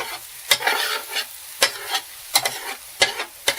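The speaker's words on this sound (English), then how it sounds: "This is how I like doing my scrambled eggs. I just scoot them together." Scrambled eggs sizzling in a pan while a utensil pushes them together, soft frying hiss punctuated by several sharp scraping strokes against the pan, close up.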